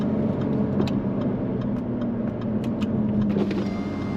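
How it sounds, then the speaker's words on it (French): A Jaguar F-Type convertible's 340-horsepower engine rumbles steadily at moderate volume with the top down, a deep continuous drone with slight shifts in pitch as the car drives along. "On entend vraiment le son du moteur."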